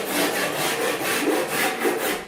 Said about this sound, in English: I'm gonna try the file first and see how fast I'm gonna get some material off.